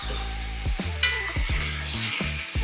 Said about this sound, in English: Ah, yeah, nice sear.